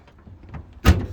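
A car door on a turbocharged 1970 VW Beetle fitted with billet hinges shuts with a single solid thump after a moment of faint rustling, close by and brief.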